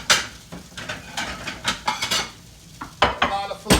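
Dishes and cutlery clatter in repeated sharp clinks and scrapes as chicken fried ribeye steak is plated in a kitchen, close and moderately loud with short pauses between the knocks.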